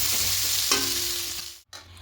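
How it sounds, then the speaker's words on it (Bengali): Potatoes for a cauliflower-potato roast sizzle lightly in oil in a pan, a steady soft frying hiss with a clink of stirring midway and a brief break near the end. "আলুগুলো হালকা করে ভেজে নিয়েছি, এগুলো তুলে নেব।"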